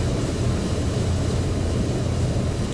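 Military transport aircraft engines in Microsoft Flight Simulator, a steady low droning rumble at moderate volume with no talking, holding constant and even throughout.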